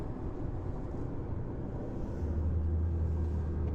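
A truck rumbles along a road hauling a Ferguson tractor strapped to its back, a steady low drone heard from inside the cab that swells slightly toward the end.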